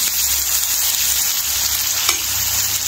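Ground tomato paste sautéing in a pan while a shepu (dill) bhaji is being made, giving a steady close sizzle and frying hiss with faint stirring, with no talk.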